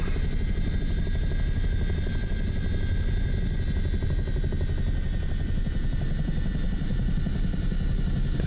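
A helicopter in Flight Simulator 2024 drones steadily as its rotor spins up, a loud, dense, continuous engine-and-rotor roar with a low throbbing pulse throughout.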